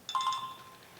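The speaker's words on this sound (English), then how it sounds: "That's your phone." A phone gives a short bright electronic ring, a quick burst of tones that fades within a second, with no voices.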